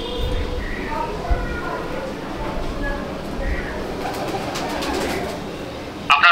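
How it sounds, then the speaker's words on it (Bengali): One-tail pigeons coo softly in a low, repeated murmur under steady room noise, with a brief clatter near the end. "এগুলো হচ্ছে 1 লেজের পায়রা"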